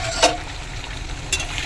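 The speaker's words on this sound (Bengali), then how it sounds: "মাটনটা এখানে একটু কষিয়ে নিয়ে তারপরে আমি প্রেসারে দিয়ে 3-4টে সিটি দিয়ে দেবো" Mutton being sautéed (kosha) in a pan before pressure cooking, a steady close sizzle with two quick metallic scrapes of a spatula.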